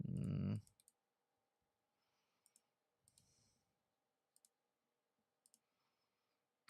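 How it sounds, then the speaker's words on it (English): Keys on a Logitech MX Keys keyboard tap out sparse, faint clicks, single and in small clusters spread across the stretch, following one louder thump at the start. "I've been using the Logitech MX key, this thing right here, this keyboard for quite a while"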